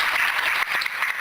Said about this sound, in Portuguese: Você pode aplaudir e exaltar ao Senhor por isso.